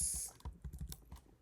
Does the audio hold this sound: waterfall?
no